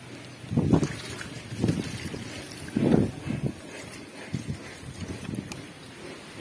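Water poured into an aluminum rain gutter fitted with a screen trickles and splashes toward the downspout in a few soft, uneven bursts, faint and close, with quieter running water between them.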